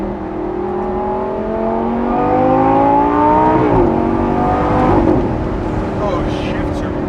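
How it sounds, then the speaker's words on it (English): Lamborghini Gallardo Performante engine in sport mode and manual, revving loudly with harmonic tones that climb and then drop sharply on a downshift around the midpoint, continuing at high rpm. "the downshifts are so satisfying on this car"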